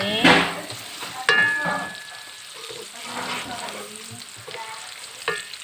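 Garlic and shallots sautéed in a pan for papaya flower stir-fry, with loud sizzling bursts as ingredients go in, then softer frying and scraping, plus occasional clinks.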